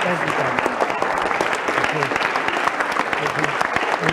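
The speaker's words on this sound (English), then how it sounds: "Give a big round of applause." Dense, steady clapping from an audience, a continuous wash of applause with voices faintly mixed in.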